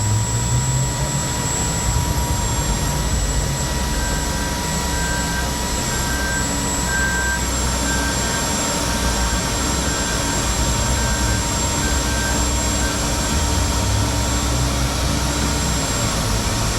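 A modified pulling tractor straining under load at a 1993 tractor pull in Louisville, Kentucky, a loud, steady, jet-like roar with a deep rumble that holds without a break, heard from a distance.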